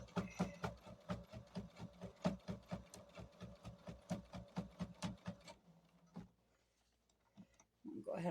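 A sewing machine stitches along a quilt seam through doubled fabric layers, hammering out a fast, even run of mechanical pulses for several seconds before stopping, with quieter handling noises and a voice afterward.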